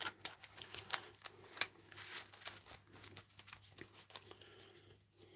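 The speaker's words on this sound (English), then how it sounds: "Need to do the shuffle first." Cards for the Fields of Fire wargame's Bulge Campaign expansion shuffled by hand, a faint rapid riffling and flicking patter with soft crinkly clicks, alone and close, without talk.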